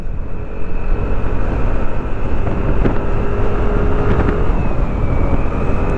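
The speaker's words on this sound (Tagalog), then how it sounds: "Lakas ng hangin." Loud, constant roar of strong wind buffeting close by, a dense low rumble with no pauses.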